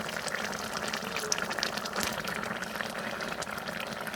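Mahashol fish bhuna curry cooks down in a pot with a steady, close bubbling and gentle sizzle, an even hiss with small pops that carries on without pause and no voices.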